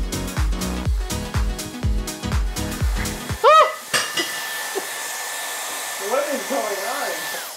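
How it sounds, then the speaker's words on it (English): After some clattering and knocks, a hair dryer switches on with a steady high-pitched whine and rushing air that keeps running. "So turn on your dryer and let's get blow drying."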